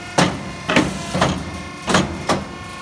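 A Challenge Diamond 265 power paper cutter cycles repeatedly, making five sharp mechanical thunks about half a second apart, each with a brief clattering tail, loud and close.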